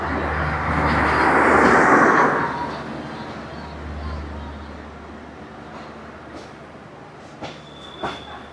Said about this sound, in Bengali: তিতুমির এক্সপ্রেস ট্রেন এক নম্বর প্ল্যাটফর্মে চলে আসছে